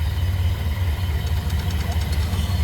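The engine of a 1928 Ford Model A pickup idles nearby with a loud, steady low rumble and a fast, even pulsing beat, with a faint rattling tick on top.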